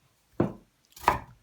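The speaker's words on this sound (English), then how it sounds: "Just chopping them up a little bit smaller like this." Knife chopping apple into small pieces on a cutting board, two distinct close thuds about half a second apart, with quiet in between.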